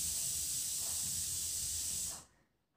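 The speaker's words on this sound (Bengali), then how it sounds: "আরও কিছুক্ষণ সময় নিয়ে পাকোড়াগুলো ভেজে নিয়েছি।" Vegetable pakoras deep fry in hot oil with a steady, soft hiss that holds evenly and then cuts off abruptly into near silence.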